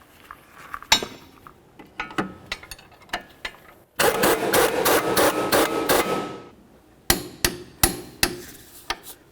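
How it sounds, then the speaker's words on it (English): A wrench snugs and torques a lower control arm bolt on a 2006–2012 Ford Fusion, with sharp metallic clinks and taps, a burst of rapid ratcheting in the middle, then more loud close knocks. "snug up this bolt right here, and then we'll torque it to 76 foot-pounds"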